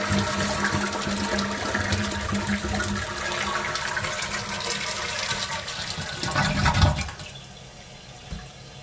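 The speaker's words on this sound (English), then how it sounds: "So right now I'm going to flush the toilet and I'm going to see if I can find any water." A leaking household toilet flushes with a loud, close rush of water that runs steadily, then cuts off and drops to a quieter trickle of refill near the end.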